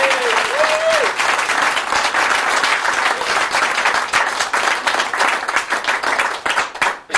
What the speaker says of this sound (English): Ladies and gentlemen, give these people a round of applause for coming back.